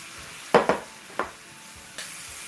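Mushrooms frying in butter in a pan produce a steady background sizzle, broken by a few close clattering stirs or utensil knocks, then the sizzle brightens near the end.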